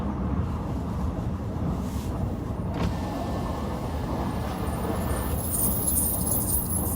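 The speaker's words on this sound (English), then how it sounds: "That noise is definitely my car." A police patrol car on a cold winter shift idles and rolls with a low continuous rumble, quiet and steady, with a brief hiss partway through and faint high whining toward the end.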